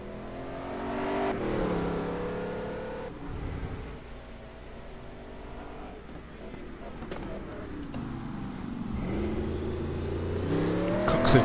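Koenigsegg GT1 race car in a racing video game at Suzuka, its engine revving loud and continuous, pitch climbing and dropping through gear changes and throttle lifts.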